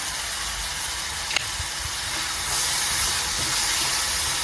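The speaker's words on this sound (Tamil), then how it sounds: "இது நல்லா வதங்கணும்." Blended tomato puree sautés in a hot pan for an egg pepper fry, giving a steady, loud hiss and sizzle that swells slightly partway through, with no voices.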